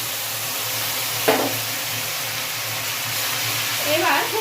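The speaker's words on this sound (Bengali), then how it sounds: "এবার খুব ভালো করে কষিয়ে নেবো যাতে পেঁয়াজ বাটা থেকে পেঁয়াজের কাঁচা গন্ধটা চলে যায়।" Onion paste frying in a pan for Bengali prawn malai curry, giving a steady, close hiss of sizzling with a brief stir or scrape partway through.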